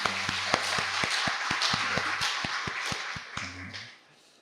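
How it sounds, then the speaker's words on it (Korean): Church congregation clapping together at a Sunday worship service, a steady rhythmic beat of loud, sharp claps over an organ or keyboard tone, continuing for about four seconds before fading. "하나님께 영광의 박수를 드리겠습니다."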